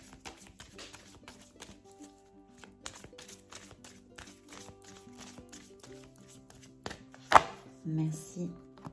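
A tarot deck is cut and handled, giving a run of quick, close papery taps and slaps with a sharper snap near the end.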